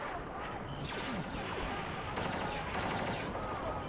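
Pulse cannon fire in the Star Wars Battlefront video game: dense, rapid blasts and whooshing energy bursts layered over a busy battle din, loud and continuous, with no speech.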